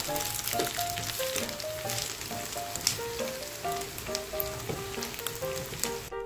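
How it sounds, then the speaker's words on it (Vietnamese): Stuffed seitan pan-frying in a tablespoon of cooking oil, a steady close crackling sizzle lasting throughout, with soft music playing along underneath. "Em cho mì căng vào chiên áp chảo."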